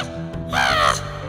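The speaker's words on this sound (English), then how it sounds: "slow-flying crow." A single crow gives one loud, harsh caw fairly close by against a quiet background.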